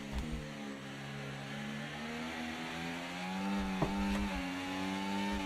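Racing car engines in a video game rev at a race start, a harmonic engine whine climbing and holding steady with a sharp blip near the end, fairly quiet and unaccompanied by talk.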